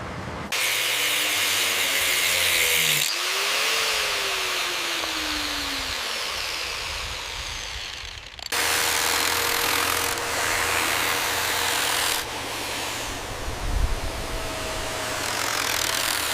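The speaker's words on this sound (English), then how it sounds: "Pull the vibrator slow." A concrete vibrator runs in fresh concrete at a dam construction site, a loud continuous motorized buzz that briefly drops out near three and eight seconds before resuming, with no one talking over it.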